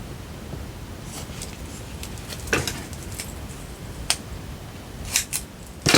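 Scissors snip through thick foam tape with several short, crisp cuts spread across the moment, set against quiet room noise.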